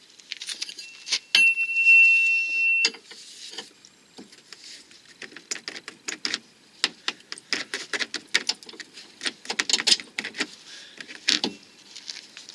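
A wrench or ratchet tightens the nut on a car's lower ball joint bolt during a clutch refit, giving close, rapid bursts of metallic clicks and rattles with brief pauses.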